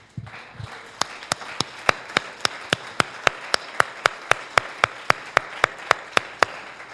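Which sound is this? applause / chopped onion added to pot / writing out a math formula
applause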